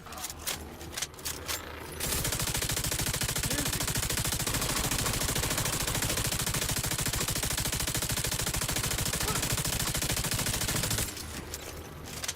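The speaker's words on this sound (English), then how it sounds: "Those 200 bullets, man, plus the speed at which it fires." A rapid-firing video game machine gun with a 200-round load unloads in one long, continuous, loud burst lasting about nine seconds, with brief quieter game sounds before and after.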